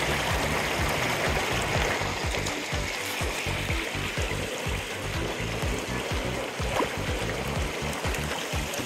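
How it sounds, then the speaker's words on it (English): Water stream flowing down a valley in Utah, a steady rushing and gurgling flow close by, continuous and fairly loud with no voices. "Just look at that water."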